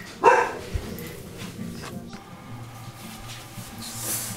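A dog gives one sharp, fairly close bark near the start, followed by quieter indoor shuffling and faint background noise, with no voices.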